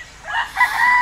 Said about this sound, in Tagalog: Tumilaok pa ang manok.